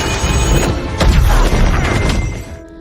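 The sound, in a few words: large explosion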